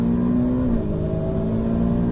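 A car engine drones loudly and steadily from close by on the Circuit de Bresse race track, holding a strong tone as it pulls hard under acceleration.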